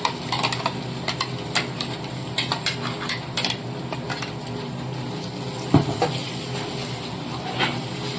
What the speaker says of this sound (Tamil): இப்போ இந்த மசாலாவை இந்த எண்ணெயிலே போட்டு நல்லா வதக்கி எடுத்துக்கிறேன்